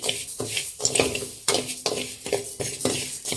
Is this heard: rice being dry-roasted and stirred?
yes